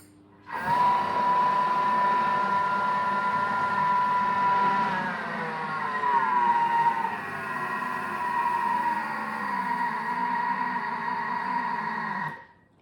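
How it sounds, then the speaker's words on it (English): A Thermomix motor whirs steadily at speed 5 mixing scone dough, with a strained tonal hum that shifts slightly, running about twelve seconds before stopping. "we're going to mix it for 20 seconds on speed 5"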